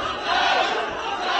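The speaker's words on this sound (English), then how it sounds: "Gives the crowd something to cheer about." A crowd cheers in a loud, sustained burst at a World Taekwondo Grand Slam final match in Wuxi.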